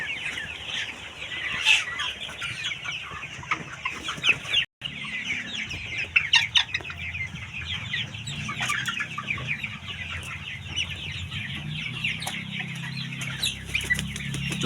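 Chicks and hens clucking and peeping close by in a chicken coop, a busy chorus of overlapping short calls over low background rumble, with one brief dropout partway through.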